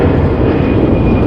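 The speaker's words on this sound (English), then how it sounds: "We got an airplane taking off." A close, loud, steady roar of an airplane taking off fills the whole moment with no talk.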